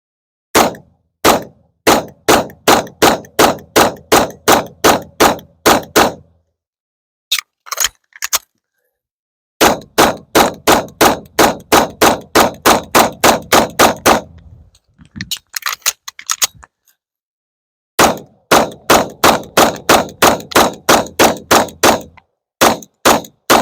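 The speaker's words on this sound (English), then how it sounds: "for some rapid fire there, that's actually not too bad" Rapid pistol fire from a Cajun Gunworks-tuned CZ75 P01: three long strings of sharp, loud, evenly spaced shots, each burst about a dozen rounds, separated by short pauses with a few scattered shots and faint handling noise between.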